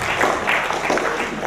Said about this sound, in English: Round of applause for Mr. White